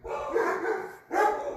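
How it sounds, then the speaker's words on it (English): Dogs barking outdoors, a dense run of barks for about a second, then a short pause and a second loud burst, with no talk over them. "So, take those dogs barking outside."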